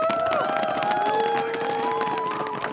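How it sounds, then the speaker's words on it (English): A crowd at a startup pitching competition claps and cheers together, loud and continuous, with whoops and sustained vocal shouts rising above the clapping throughout. "Give them one more big round of applause"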